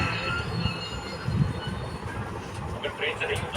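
A train running on rails, a continuous low rumbling roll with faint rattling and clatter from inside or alongside the carriage, fairly quiet and steady throughout.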